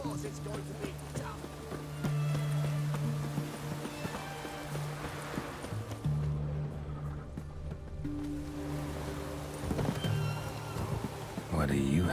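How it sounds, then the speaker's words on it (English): Rain falls steadily in The Witcher 3 video game, a constant hiss mixed with horse hooves clopping and game music, with voices speaking over it. "It's raining."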